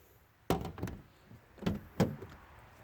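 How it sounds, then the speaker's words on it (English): A car door is opened in the morning, with a couple of faint clunks and thuds from the latch and door panel, then a second pair of knocks a moment later, all quiet and close. "open up the door"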